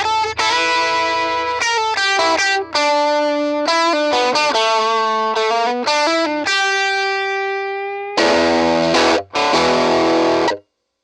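Loud, heavily distorted electric guitar chords through a Kona KA10 amp with an upgraded speaker, strummed and left ringing, with a few short breaks between phrases.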